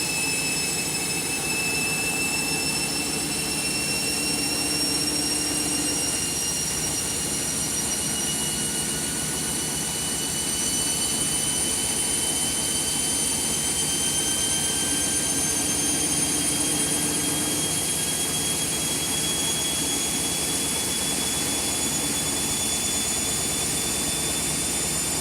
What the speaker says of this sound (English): I put it on a 1200 spin today, as you can see.